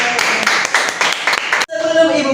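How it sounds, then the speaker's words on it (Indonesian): Schoolchildren in a classroom give a round of brisk, rhythmic applause for about a second and a half, up close and fairly loud, then the clapping stops abruptly and a voice takes over. "Beri tepuk tangan."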